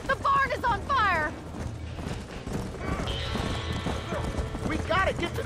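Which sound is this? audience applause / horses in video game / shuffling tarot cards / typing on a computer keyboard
horses in video game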